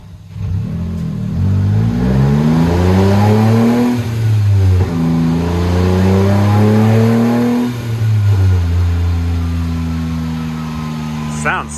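A small car of about 50 horsepower revs hard in third gear on a dyno, its loud engine note climbing steadily, dipping briefly, then climbing again before easing off, with people talking over it.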